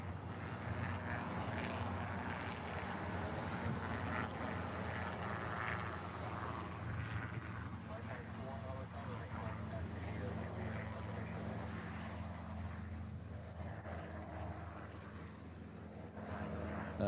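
An airliner taxis at Honolulu airport, heard as a continuous roar and jet whine from a distance that persists throughout, over wind and an open-air background, with a person speaking at times.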